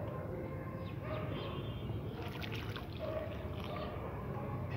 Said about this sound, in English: Give water after transplantation.